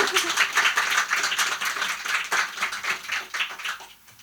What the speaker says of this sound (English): Can we have like an extra applause for Joe?